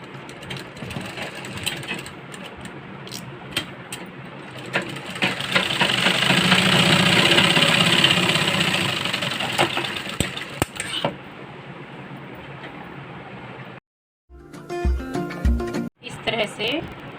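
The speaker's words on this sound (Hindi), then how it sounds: "अब इन डार्ट्स को हम सिल देंगे" A sewing machine stitching darts on a blouse runs in a continuous mechanical whir that swells louder in the middle, then stops abruptly, followed by short bursts of running and a brief pause.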